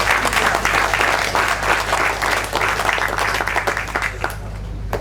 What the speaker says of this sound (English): can we have a round of applause for these two amazing